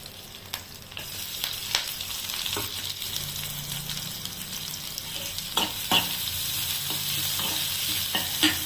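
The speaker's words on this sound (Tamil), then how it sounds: "இப்போது கருவேப்பிலை போடுறேன். லைட்டாக வதக்கிட்டு வெங்காயத்தை போடுறேன்." Curry leaves and onions frying in hot oil with mustard seeds in a pan, steady soft sizzle with intermittent stirring clinks and scrapes.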